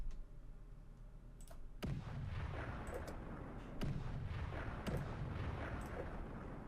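Artillery shelling in the WWII strategy game Cauldrons of War: Stalingrad, heard as a low, steady rumble of distant bombardment with several sharp cracks and booms standing out, plus a few faint clicks.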